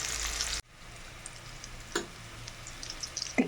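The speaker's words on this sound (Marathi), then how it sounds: "दोन पळी तेल टाकलेलं आहे. कांदा फ्राय होत आहे." Chopped onion frying in two ladles of oil for a mutton dish, a steady soft sizzle with a few sharper crackles and pops, heard close and alone after a brief louder burst at the start.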